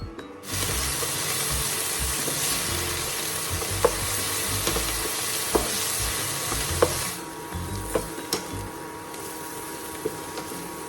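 Bread pulao made with toasted bread pieces sizzles steadily as it is stirred and fried in a pan, with scattered clinks of the spoon against the pan.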